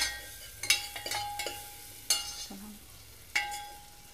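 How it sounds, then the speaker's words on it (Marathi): Chopped spinach with turmeric sautés in a pan for spinach rice, a faint sizzle broken by several sharp spoon scrapes and clinks against the pan, close and alone. "एक 30-40 सेकंद छान परतून घेतलेलं आहे"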